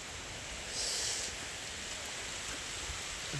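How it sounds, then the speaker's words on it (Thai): Steady rain falls over rural Thai farmland, a soft, even hiss of drops with no voices, fairly faint and continuous. "ในที่สุดฝนก็มา"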